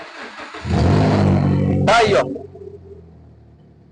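An Alfa Romeo JTS 2.0 petrol engine with a faulty MAF and pressure sensor catches and rumbles, briefly rising in revs before settling to a steady idle, with someone speaking over it.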